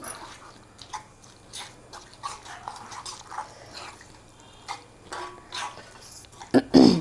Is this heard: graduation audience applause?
no